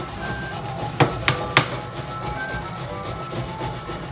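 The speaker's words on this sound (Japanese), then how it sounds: "あとこの取っ手の部分がすごい油がとか焦げとか溜まってるんで、" Brisk scrubbing rubs and scrapes at burnt grease built up on the handle of an iron frying pan, with a few sharp knocks and clatters, close and fairly loud, and no talking.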